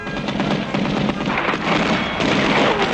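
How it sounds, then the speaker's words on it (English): Cartoon gunfire with bullets ricocheting off a superhero dog during an armored car robbery, a dense, loud, continuous burst of popping and crackling with no gaps. "The bullets are bouncing right off him, Eel."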